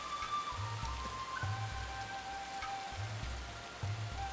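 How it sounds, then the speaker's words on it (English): Steady rain patters in The Settlers: Rise of an Empire, a soft, even wash of falling drops layered with quiet sustained musical tones. "The rainy season has set in."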